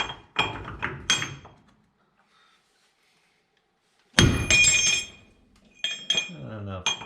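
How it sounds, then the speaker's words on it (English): A big hammer bangs on the CV joint axle of a 1981 Volkswagen Westfalia camper, a loud ringing metallic strike surrounded by nearby clanks and someone talking. "I don't know if big hammer's gonna work."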